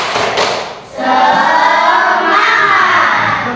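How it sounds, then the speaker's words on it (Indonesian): Students in a classroom perform the tepuk semangat rhythmic clapping cheer: a brief pause, then loud, close-up clapping thuds blended with children's shouting voices. "Tepuk semangat"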